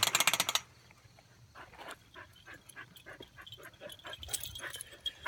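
Dogs behind a kennel fence whimper, yip and bark in short, scattered bursts, fairly faint and close by, after a brief loud rattling at the start.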